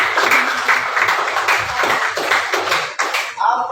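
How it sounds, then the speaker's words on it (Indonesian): A classroom of students claps their hands in appreciation at the end of a lesson, loud, close and continuous, with the clapping thinning out near the end. "tepuk tangan dong"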